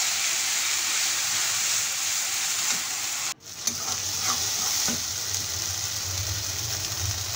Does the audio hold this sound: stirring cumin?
yes